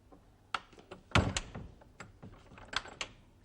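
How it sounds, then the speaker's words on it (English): A door swings shut with a solid thunk, then a catch drops with a metallic clack, followed by lighter mechanical clicks and rattles at close range, with no one speaking. "I'm shutting door."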